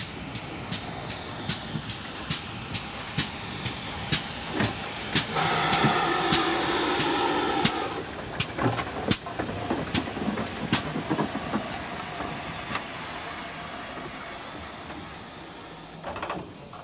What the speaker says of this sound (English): So, by steam train up the River Dart to Buckfastleigh.